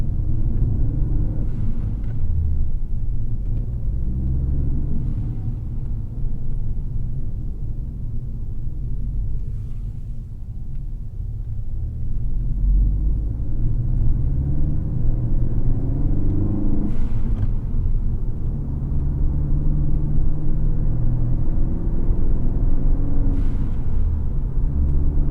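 A Ford Focus ST fitted with a Turbosmart blow-off valve, heard from inside the cabin with windows up: a steady low engine rumble and road drone, swelling slightly as it accelerates, with no talking.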